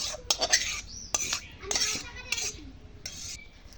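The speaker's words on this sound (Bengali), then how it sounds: "এটাকে আমি কড়াইটাকে ভালো করে পরিষ্কার করে নিচ্ছি।" Metal utensil scraping and scrubbing around a wok, with repeated clattering strokes and clinks close by.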